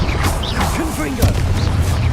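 A Confringo blasting spell in Hogwarts Legacy booms low beneath a voice, with a sharp impact crack near the middle followed by sustained rumbling.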